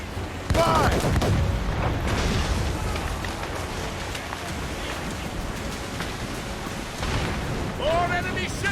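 Ship cannons firing in a naval battle in Assassin's Creed Rogue, a dense rolling barrage of booms and crackling impacts with shouted game voices over the gunfire.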